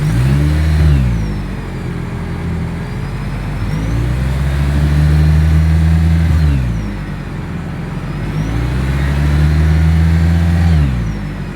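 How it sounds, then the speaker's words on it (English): A 2024 Toyota Camry Hybrid's engine and exhaust rev up and settle back in repeated cycles, a loud, close mid-pitched drone rising and falling about three times with no talking. "As always, here is that exhaust clip."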